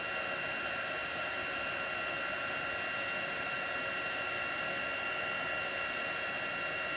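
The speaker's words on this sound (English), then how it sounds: "When you're heating it, you can see the embossing powder melt and it becomes very shiny." A heat tool melting embossing powder gives off a constant, loud, even hiss and whir of blowing air, steady and uninterrupted from start to finish.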